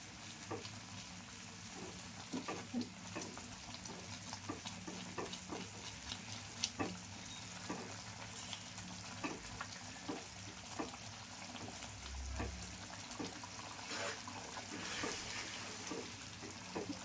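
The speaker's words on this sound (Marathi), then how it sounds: "आणि ह्याच्यात आता उकळी आलं, मी ह्याच्यात घालणार आहे बेसन, भाजून ठेवलेलं बेसन" Cabbage rasam thickened with roasted gram flour simmers in a pot, giving a faint, continuous bubbling and light sizzle with scattered small pops and occasional stirring clicks, no voices.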